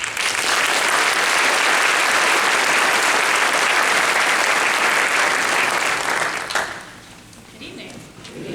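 An audience breaks into loud, sustained applause as guests walk onto the stage at a community action gathering, steady for about six seconds before fading to a quieter room.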